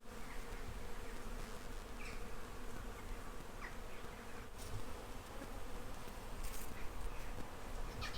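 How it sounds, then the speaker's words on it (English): Faint, continuous buzzing of many bees swarming in a row of blossoming trees outdoors, a soft, even hum with occasional nearer passes of individual insects. "these trees basically sound like beehives"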